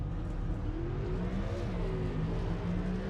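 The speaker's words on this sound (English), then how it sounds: "Finally, we got a half a donut." A race car engine in a racing video game drones steadily as the car spins a donut burnout at Darlington Raceway, a continuous close whirring roar with slight pitch wavering throughout.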